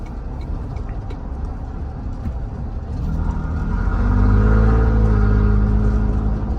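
A Toyota Tundra V6 pickup's engine rumbles low and rises as it accelerates at night, heard from inside with the back window open, the exhaust note deepening and growing louder over several seconds.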